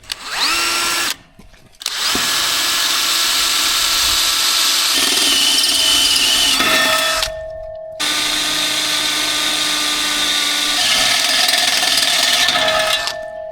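A power drill whines loudly in long continuous runs, briefly stopping twice before starting up again, close by, during farmyard gate repairs.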